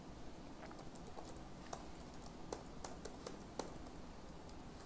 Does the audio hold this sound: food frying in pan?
no